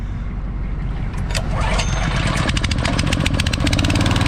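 A small Honda water pump engine pulled and started after sitting unused, catching partway through and settling into a loud, steady running putter close by.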